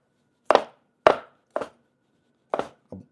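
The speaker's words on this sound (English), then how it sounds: "just grab a whole bunch and chop it down" Knife chopping raw shrimp on a cutting board for ceviche: five distinct, close and crisp chops spaced about half a second apart, with quiet gaps between them.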